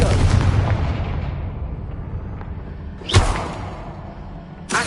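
The Confringo fire spell in Hogwarts Legacy, heard as a loud, booming explosion that rumbles and decays, then a sharp second blast and another onset near the end, close and with no talk.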